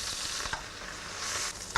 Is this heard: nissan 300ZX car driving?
no